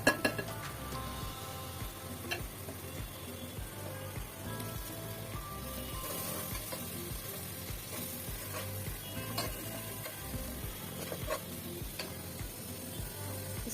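Spices and onion frying in hot oil for beef liver bhuna give a steady close sizzle, with stirring and occasional clinks of utensil against pan.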